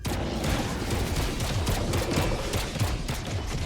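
Sniper fire crackles through a ZeroSpace real-time strategy battle, a dense run of sharp gunshot bursts blending with battlefield noise throughout, loud and close with no talking.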